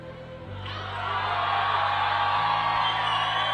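A large crowd at the British Bouldering Championships 2023 finals cheers and whoops for climber Gwyneth. The roar swells suddenly and holds at a loud, steady level throughout.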